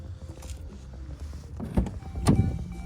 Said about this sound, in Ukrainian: Чотири склоподйомники, автосвітло.